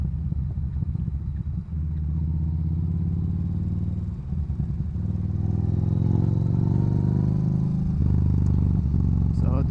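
A Yamaha Bolt R motorcycle is ridden through twisty roads, its engine drone rising and falling through gear changes, loud and close with wind buffeting, while a rider talks over it.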